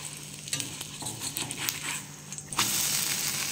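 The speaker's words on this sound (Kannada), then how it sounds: "2 ಸೈಡ್ ಇದನ್ನು ಫ್ರೈ ಮಾಡಲಿಕ್ಕುಂಟು, ಕಾಯಿಸ್ಲಿಕ್ಕುಂಟು." Horse gram dosa cooks on an iron pan with a steady close sizzle, scattered scraping and stirring taps, and a louder burst of frying near the end.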